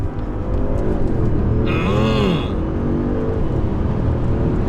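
A 634 hp Audi S6 with a DSG gearbox pulls hard in second gear and then downshifts, its engine note rising and sweeping in pitch inside the cabin, loud and sustained.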